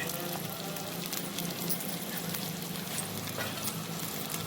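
Mutton fry sizzles steadily in a pan as chopped coriander is stirred through, a dense, continuous crackle of hot oil running loud and close from start to finish with no talking.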